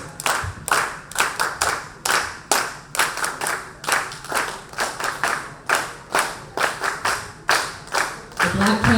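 A gathering of family joins in, clapping along in steady rhythm: a long run of evenly spaced, loud group claps with a brief swell of voices near the end.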